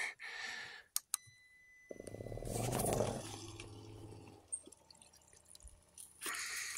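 A small portable shower pump sits in a jug of rainwater at an old hunt camp deck, starting up with a steady low motor hum and watery churn for a few seconds before fading to quieter background noise.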